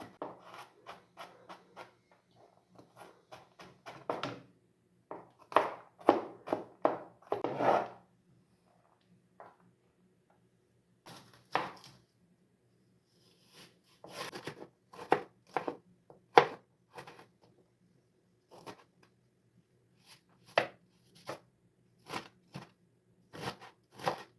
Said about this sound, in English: Next, I'm going to mince my garlic. I'm going to chop it into small pieces that are easy to fry.